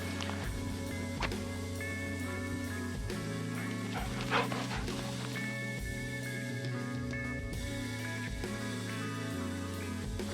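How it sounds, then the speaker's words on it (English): Dogs at a cold campsite, barking and yipping intermittently at moderate distance over a steady low mechanical hum, with occasional whimpers. "we're gonna get these dogs worn out and then head back"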